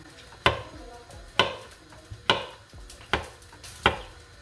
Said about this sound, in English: And we're just gonna cut them into nice slices so they cook quick and they're nice